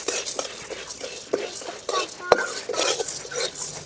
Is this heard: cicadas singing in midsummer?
no